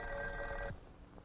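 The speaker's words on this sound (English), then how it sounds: "The connector now sends ringing current out on the called line until the receiver is raised." Telephone bell ringing on a called line, driven by ringing current from an AT&T step-by-step switching exchange; a steady, loud metallic ring that stops abruptly partway through, leaving quiet room hum.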